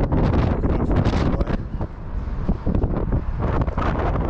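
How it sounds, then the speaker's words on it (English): Strong wind at the top of an abandoned tower in Birmingham buffets the microphone in heavy, rumbling gusts that ease briefly and then pick up again, loud and close. "It's a bit windy, but it's alright."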